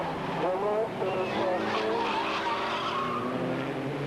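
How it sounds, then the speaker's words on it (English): A touring car spins out during a 1990 Esso Group N race at Mallory Park, tyres skidding and squealing amid continuous race engine noise, fairly loud throughout, with a commentator talking over it. "Monk spins it. Monk has lost it there, coming into Shaw's"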